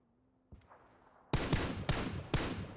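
Four sharp single-tap M4 rifle shots ring out in PUBG, evenly spaced about half a second apart, loud and close, each cracking through a quiet background after a faint thump.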